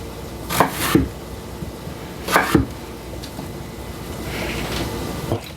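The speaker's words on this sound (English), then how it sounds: "So we're gonna maybe cut that little piece off." Two sharp knife chops through firm potatoes on a board, a pause between them, then quiet kitchen background.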